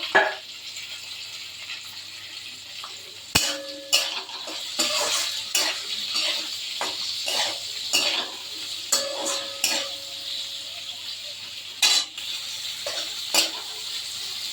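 Sliced onion rings sizzling in hot oil for a Bengali prawn do-pyaza, stirred with a utensil that scrapes and knocks against the pan in repeated clatters over a steady frying hiss.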